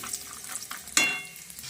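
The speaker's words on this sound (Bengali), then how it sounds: "এবারে আমি বাদামটা ভেজে নিচ্ছি বাদামটা আমি একটু ভেঙে ভেঙে নিয়েছি" Crushed peanuts frying in oil in a pan, a soft sizzle with a sharp spatula stir or clatter near the one-second mark, then continued frying; no talking.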